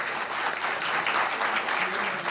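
Dense, sustained audience applause greeting Vice Minister Im Sung-nam at a special conference session, even and unbroken clapping with no voices.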